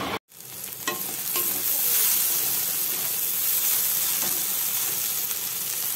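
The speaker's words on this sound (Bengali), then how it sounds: "আমার ভেন্ডি ভাজাটা হচ্ছে।" Okra fries in a hot pan in a home kitchen, giving a loud, steady sizzle and hiss that continues throughout, with a few soft stirring scrapes and no talking.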